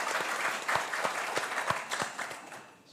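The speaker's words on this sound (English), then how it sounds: "So I'm not sure if the applause is for me or for the fact that it's working." Audience applause fills a hall at an official opening ceremony, steady crowd clapping with a few sharper claps standing out, fading slightly toward the end.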